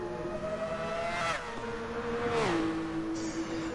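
Audi race car in a racing video game, heard from onboard: a steady engine drone with tonal whine that drops in pitch twice as it brakes and shifts, continuous and fairly loud with no talk.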